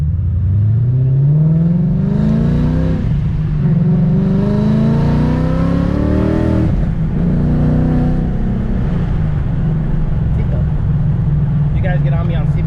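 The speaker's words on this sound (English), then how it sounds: "Let's go for a quick spin and get out of here" A car with a Stage 3 MT-82 manual transmission pulls away and accelerates, engine rising steadily in pitch through the gears, close and loud, with a person talking over it.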